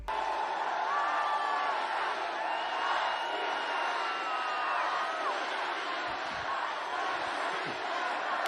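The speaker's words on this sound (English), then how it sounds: "Notice how the people cheer for him." A large crowd cheers for Vladimir Putin at a gala celebrating the annexation of Ukraine, a steady roar of voices with whoops and rising shouts, continuous and dense throughout.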